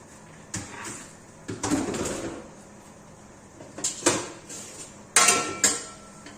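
A metal lid set onto a cooking pot of goat tripe brought to the boil, heard as a few sharp clanks and scrapes spread across the moment, close and moderately loud with quieter kitchen handling between them.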